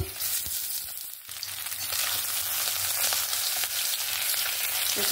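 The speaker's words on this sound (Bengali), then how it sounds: "মাছের মাথাগুলো সুন্দর লাল লাল করে ভেজে নিয়েছি" Fish heads frying in oil in a pan, a steady close sizzle and crackle that runs through the whole stretch with a brief dip near the start, with no talk.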